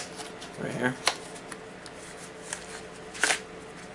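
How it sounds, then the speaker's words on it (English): Crinkly rustling and a few sharp paper snaps as an envelope-style DVD box set package is pried open, close by, with a person talking over it. "this is not opening for me at all. Oh, it's kind of an envelope this time,"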